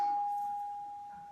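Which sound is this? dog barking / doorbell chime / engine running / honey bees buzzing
doorbell chime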